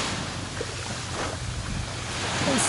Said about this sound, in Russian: Пляж Бантай.